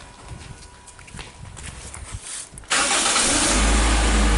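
A Toyota Fielder with cylinder misfires and rough idle starts up: a short crank gives way to a loud, steady engine roar that fills the second half, after quiet shuffling noises.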